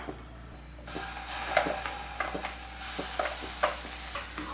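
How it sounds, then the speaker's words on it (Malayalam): Masala paste for dum aloo stirred and sautéed in a pan, with a steady sizzle and repeated scraping strokes of a spoon, loud and close with no talking. "ഇതെല്ലാം കൂടി നമുക്ക് നന്നായിട്ടൊന്ന് മിക്സ് ചെയ്ത് കൊടുക്കാം"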